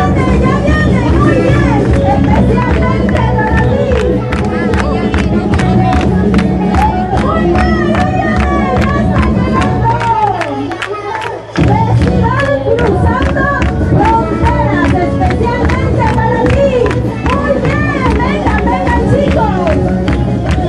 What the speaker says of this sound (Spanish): ¿Qué le parece si le damos un aplauso al Señor?